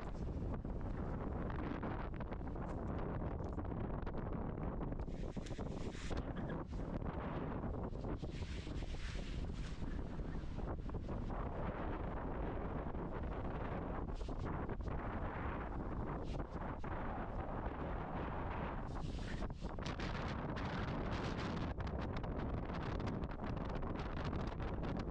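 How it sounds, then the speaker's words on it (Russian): Strong wind gusting across a lake during an October fishing outing with friends at Lake Tudakul, roaring steadily into the microphone with rushing buffets throughout, no voices heard. "Сильный ветер"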